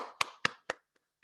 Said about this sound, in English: Please join me in a quick round of applause for all of the nominees